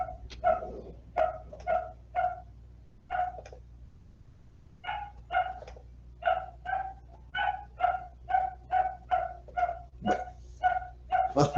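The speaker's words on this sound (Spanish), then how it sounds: "dejaron encerrado un pobre perrito que estaba de ladrar" A small dog shut in somewhere in the neighbourhood barks repeatedly in steady bursts of short, sharp yaps, fairly close and clear against a low background hum, with one brief pause partway through and no talking.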